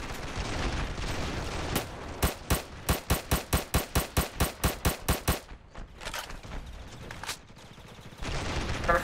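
Semi-automatic weapon firing in a tank video game: a rapid, evenly spaced run of about fourteen loud shots over a steady game rumble, with a few scattered single shots after and no talking.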